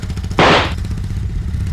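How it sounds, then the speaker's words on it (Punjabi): A Royal Enfield Bullet motorcycle lets off one sharp, loud backfire pop over its low, chugging idle, which thumps on steadily afterward. "ਬੁਲਟ ਦੇ ਪਟਾਕੇ ਪਾਉਣਾ ਤਾਂ ਫੁਕਰਿਆਂ ਦਾ ਕੰਮ ਹੈ"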